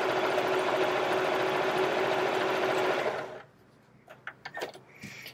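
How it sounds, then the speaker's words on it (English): An Elna Sew Green sewing machine runs at full speed on a stretch stitch, a steady loud whirring drone for about three seconds that stops abruptly, followed by a few faint clicks and handling sounds. "This machine is very smooth sewing as well. Now I'm at full speed"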